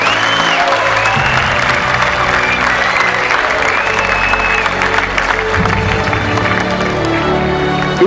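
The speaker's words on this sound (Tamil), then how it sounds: "மிகப்பெரிய கரகோஷத்துக்கு மத்தியில்" A crowd applauds loudly and steadily at a televised junior singing competition grand finale winner announcement, the dense clapping running throughout with a few voices calling out underneath.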